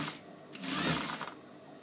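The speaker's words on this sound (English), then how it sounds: "So back tack, put your edges together and stitch" A sewing machine back tacking and stitching a dress seam with trim, a short close whirring burst of under a second between quiet pauses.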